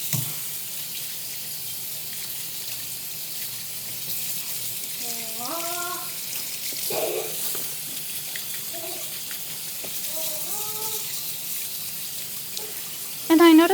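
Bell peppers are rinsed under a running kitchen tap, a steady moderate rush of water with a few tonal squeaks and a clatter near the end.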